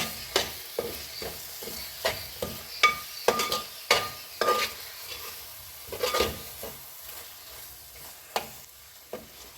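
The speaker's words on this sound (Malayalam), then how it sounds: "ഇതും കൂടി ഇട്ട് കൊടുത്തിട്ട് ഒന്ന് നന്നായിട്ട് ഇളക്കി മിക്സ് ചെയ്യണം." A curry leaf mixture with three spoons of jaggery stirred in a pan, with repeated scraping strokes over a light sizzle at an uneven rhythm, close and fairly quiet.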